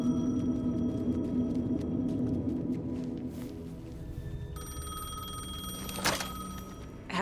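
A payphone rings in the Alan Wake 2 video game, its electronic bell tone cutting in partway through over a dense, droning ambient background, with a sharper burst near the end.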